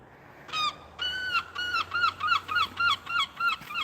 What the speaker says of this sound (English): Hear the seagull kicking off at me, or just in general.